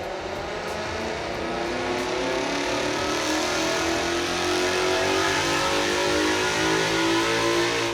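A 2018 Mustang GT V8 revving hard on a dyno run, a loud sustained engine roar climbing steadily in pitch and intensity throughout.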